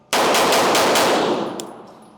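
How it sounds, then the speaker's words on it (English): Pistol with a red dot sight fired five times at targets in a drill, the shots loud, close and evenly spaced in a rapid string, then a brief metallic ping as the echo fades. "5 even shots, because the drive to the neckline makes the splits and the transition sound about the same."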